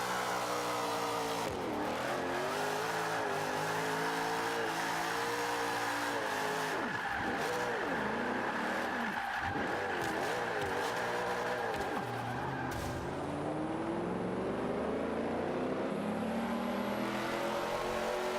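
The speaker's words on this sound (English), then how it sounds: "Love the sound of this engine." A Nissan Fairlady Z rear-wheel-drive drift build in the Forza 5 racing game, its engine droning and revving steadily throughout, with pitch swings and tire squeal as the car slides through corners.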